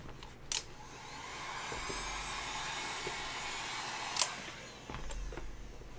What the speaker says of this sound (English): So I'm just going to take the heat gun and heat these parts of the foam.